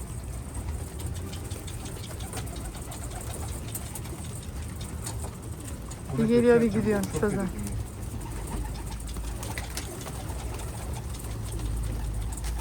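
A runaway domestic pigeon gives a short cooing burst midway, close but fairly faint, over a steady low engine-like hum, with people talking nearby.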